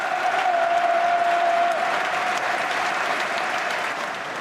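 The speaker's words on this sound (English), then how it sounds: "in the 6th minute, crowds across the country clapped" Football crowds across a stadium applauding in a minute of tribute: a dense, steady wall of clapping from thousands of people that holds evenly throughout and fades slightly toward the end, with no voices standing out.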